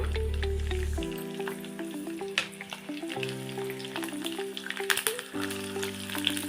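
Cumin seeds and garlic cloves hitting hot oil, a continuous crackling sizzle close by with sharp pops and spatters, under a steady music bed.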